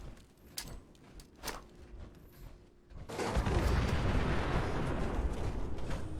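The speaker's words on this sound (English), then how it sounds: "Double whammy with the explosion there." Fallout 76 combat: a few sharp gunshot cracks come first, then a loud explosion bursts about halfway through into a long, rumbling roar.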